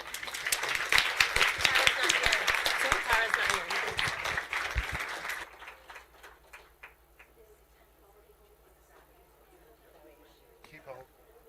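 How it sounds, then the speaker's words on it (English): A conference audience at a games industry event applauds loudly for about five seconds, dense clapping that quickly fades to quiet room noise with a few scattered late claps. "Please give them a huge round of applause."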